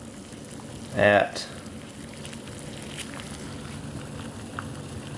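Water boils in a pot on a small camping stove from a cook kit, a soft, steady bubbling hiss with one short spoken word near the start.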